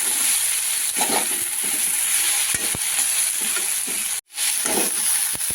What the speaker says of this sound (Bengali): এবার এটাকে আরও দু মিনিট আমি এভাবে হাই ফ্লেমে নেড়ে নেবো ভালোভাবে